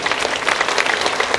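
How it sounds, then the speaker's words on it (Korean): Applause from a church congregation during a worship service, a dense, steady wash of many hands clapping together at close range, with no voices standing out. "함께 박수를 드립니다."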